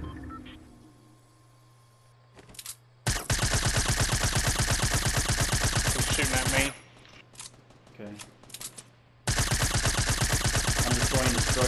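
Rapid automatic gunfire in the video game Fortnite, shooting at a player's built structure, coming in two long sustained bursts with short sharp shots between them, loud and close after a quiet start.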